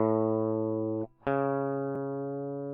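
A steady electronic reference tone from the built-in tuner in Logic Pro X plays, briefly dropping out near the middle before resuming at the same pitch, clean and sustained with no talking.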